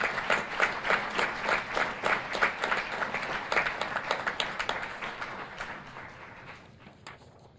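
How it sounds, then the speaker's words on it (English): An audience applauds a high school choir and its choral director at a school board meeting, a steady crowd of clapping hands that thins and fades toward the end. "let's give them another round of applause"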